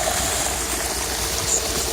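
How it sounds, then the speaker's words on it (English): Water pours from a hose into a front-yard permaculture swale trench, making a continuous, loud rushing and trickling wash with no breaks and no voices. "Okay, we got the water all hooked up. Now we are filling the first trench."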